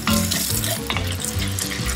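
Andouille sausage sizzles loudly in a hot pan, a steady crackling fry with stirring scrapes and shuffles over it.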